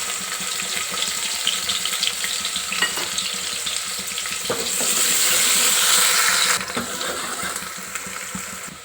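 Whole spices (cloves, mace and shahjeera) fry in hot oil, a constant crackling sizzle that swells louder for a couple of seconds before settling back down.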